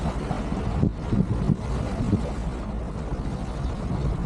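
A sailboat motoring under engine power in light wind off the west side of an island in Scotland's Western Isles, sails hoisted; a steady low engine drone with water wash and faint wind buffeting on the microphone, continuous throughout.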